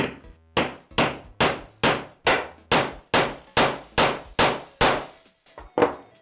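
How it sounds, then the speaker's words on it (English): A hand-held snap-setting tool is struck with a hammer to fix a metal spring snap onto fabric. About a dozen sharp, ringing metallic blows land close and evenly spaced, each decaying quickly, with a brief pause before the last. "and we'll hammer again"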